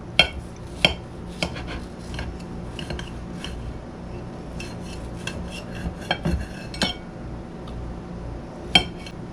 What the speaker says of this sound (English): if you're wanting to be fancy, you got to cut it in half